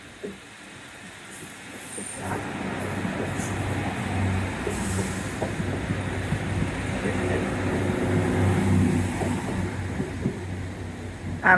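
A train rumbles past, its low roar steadily building over several seconds, with faint squeals and rattles in the background.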